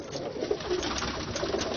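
Ali wale pigeons cooing in a loft in Lahore, a soft, steady murmur of low coos from several birds blending together close by, with no clear pauses over the short stretch.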